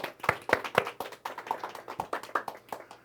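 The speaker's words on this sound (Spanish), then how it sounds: "Un aplauso para el Eterno" A congregation claps at a Jewish religious service, with sharp, fairly rhythmic hand claps repeating evenly for about three seconds, moderately close, with no talking over them.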